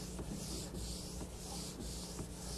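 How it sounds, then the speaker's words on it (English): Wood is hand-sanded with sandpaper in steady back-and-forth strokes, a soft rhythmic rasping repeated about five times, close and quiet with no talking. "And remember, hey, proper sanding technique."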